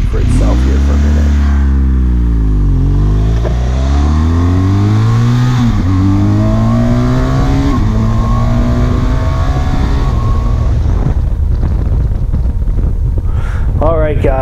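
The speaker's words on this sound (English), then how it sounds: "Let the bike speak for itself here for a minute." Motorcycle accelerating hard through the gears on a ride, loud, close engine note rising in pitch, dropping at each shift and climbing again, with steady wind rush over the microphone throughout.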